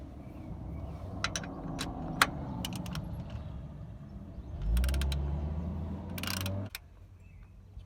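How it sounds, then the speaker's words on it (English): A 1/2 inch ratchet wrench clicks in short bursts during a full service on a Renault Kangoo 1.5 dCi, close and fairly quiet, over a low background hum, with some metallic clinks. "It's my 1/2 inch ratchet that I lost."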